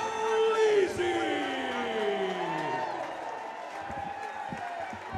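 Crowd at a Chosen Few Fighting Championship bout in Madison, Wisconsin, roaring and cheering loudly, with sustained shouts and swelling voices that ease into a steadier murmur with scattered claps.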